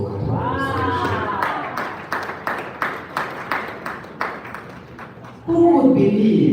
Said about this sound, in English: very big round of applause for OQATA Wellness Solutions